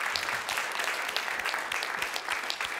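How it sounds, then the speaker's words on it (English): Room full of people clapping for the food volunteers at a faith event, a dense, even patter of applause at moderate loudness that carries on for the whole span without speech. "So we should give them a round of applause,"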